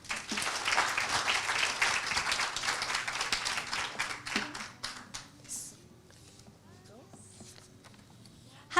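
Audience applause at a live creative talk event, loud and dense clapping that thins out into scattered claps and fades to quiet room tone near the end.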